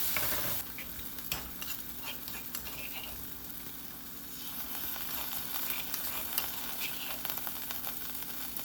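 A spice mix with mustard paste fries in a pan, making a steady, fairly quiet sizzling hiss with faint stirring scrapes throughout and no voices.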